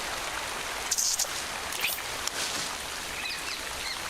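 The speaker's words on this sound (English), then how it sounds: "The rain is a welcome relief." Steady rain falls through forest undergrowth in a broadband hiss, with a few brief nearby chirps and drips rising over it, at a moderate, even level with no talk.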